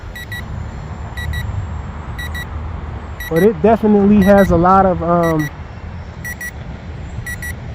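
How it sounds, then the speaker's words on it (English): Short triple electronic beeps of a low battery warning on a ParkTen brushless 2S 510mm P-51D RC plane repeat at regular intervals, high and thin, while a person talks briefly in the middle over a steady motor hum. "they're giving me a low battery warning"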